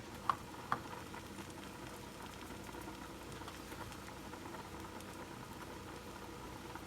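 Mushrooms seasoned with a little salt and pepper sauté in a pan for beef bourguignon, giving a steady, even sizzle throughout with a couple of small clicks near the start.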